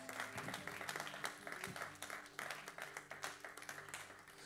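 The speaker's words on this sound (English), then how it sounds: "Give a mighty clap of it unto Jesus." A church congregation at an apostolic service claps for Jesus, a fairly faint rhythmic patter of many hands over a sustained musical drone, continuing throughout.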